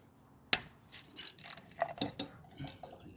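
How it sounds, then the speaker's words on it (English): A 12 mm ratchet working a cover bolt loose on a 1972 Honda CB750 Four during an oil change, giving a sharp click followed by several short bursts of metallic ratcheting clicks, close and fairly quiet. "you just need a 12 millimeter ratchet to remove this bolt that holds the cover in place"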